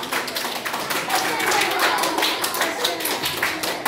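Quiz-show audience applauding a contestant after a geography round, a steady wash of clapping hands filling the room for several seconds, with a voice talking over it.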